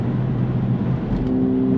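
Volkswagen Polo GTI MK6 2.0 accelerating, a steady loud low engine drone from inside the car that rises slightly in pitch near the end.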